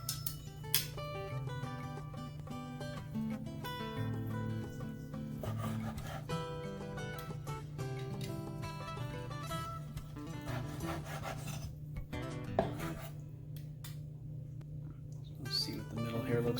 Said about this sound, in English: cut some nice thin slices of our beef here